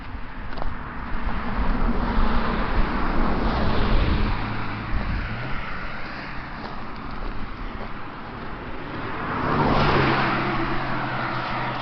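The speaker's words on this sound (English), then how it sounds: "Traffic." Road traffic near Buckhorn Spring in Angeles National Forest: cars pass one after another, engine and tire noise swelling and fading, one nearer vehicle rising toward the end, with wind in the background.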